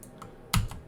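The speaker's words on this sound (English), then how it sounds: "we press the Tab key on our keyboard" A single Tab key press on a computer keyboard, one close, crisp click with a faint lighter tap just before it, heard alone in a quiet room.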